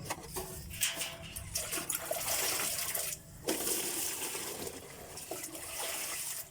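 Water pours through a funnel into a barrel on a farm, a steady, close rushing and splashing with a brief dip just past three seconds before the flow resumes. No voices.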